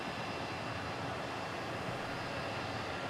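An Aer Lingus airliner at DFW International Airport makes a steady, broad jet roar, a continuous rushing hiss heard from a moderate distance with no pauses.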